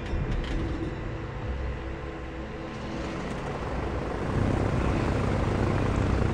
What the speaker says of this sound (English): Take back off with my torpedo planes.